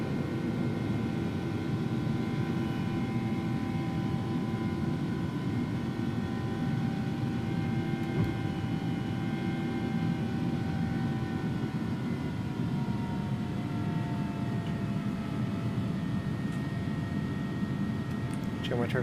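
Airbus A300 jet engines at takeoff thrust in X-Plane 11, a steady, loud, unbroken roar with a thin whining tone riding over it and a slowly shifting pitch, heard close with no pauses.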